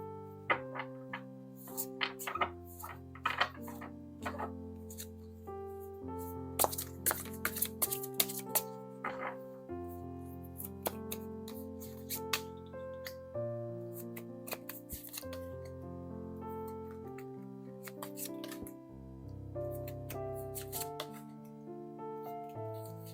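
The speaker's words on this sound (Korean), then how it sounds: "네, 카드 섞겠습니다." Tarot cards being shuffled by hand, a long run of crisp riffling and flicking card sounds in irregular bursts, close and clear with no talking.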